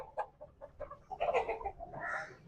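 Aseel roosters and hens on a large farm cluck in short, close bursts, rising into a busier stretch of overlapping calls.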